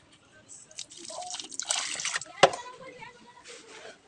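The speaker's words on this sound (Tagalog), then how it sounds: "So, lagyan na natin siya ngayon ng tubig." Water poured into a thick, pancake-batter-like mud mixture for homemade salted eggs, giving a drippy, splashing pour of a few seconds with a sharp splat near the middle, close and moderately loud.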